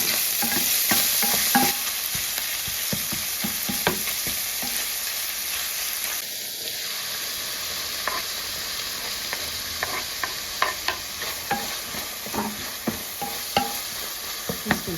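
A batter of flour and ayran fries in hot oil in a pan. There is a constant loud sizzle with repeated scraping and stirring clicks close by, and no voices.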